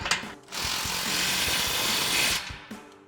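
A ratchet tightens an exhaust link pipe clamp on a 2019-2024 Silverado/Sierra 1500 MBRP dual exhaust, giving a close, sustained buzzing rattle of about two seconds framed by brief clicks and clanks.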